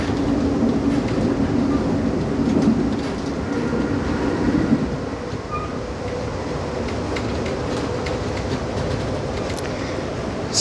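Amtrak train riding on the rails, heard from inside the dining car early in the morning: a steady, close rumble of wheels and carriage noise with faint rhythmic clicking, running continuously throughout.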